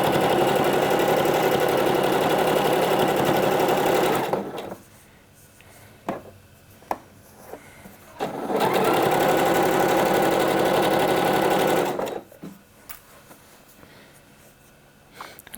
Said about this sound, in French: Il faut bien prendre toutes les épaisseurs dans cette couture.